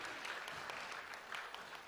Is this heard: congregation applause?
yes